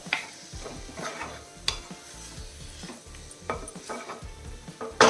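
A utensil stirs tomatoes cooking in a pan, with rhythmic scraping strokes, soft sizzling and occasional clinks against the metal, close up and without speech.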